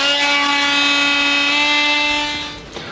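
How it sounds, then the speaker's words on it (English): A power tool whines steadily with a bright, high pitched tonal drone while polishing guitar frets on a Harley Benton Fusion III neck, holding close and constant before tapering off near the end. "Time for a bit of fret polishing."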